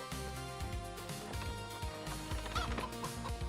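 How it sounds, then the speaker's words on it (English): Geese, ducks and chickens on a farm in the video game Farming Simulator 25, with clucking and gobbling fowl calls repeating over steady background music. "We still have our geese, we still have our ducks, we still have our chickens."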